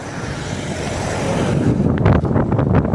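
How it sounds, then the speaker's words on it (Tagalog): Heavy wind buffets the microphone, a dense roar that grows rougher and gustier toward the end, with no voices. "Lakas ng hangin."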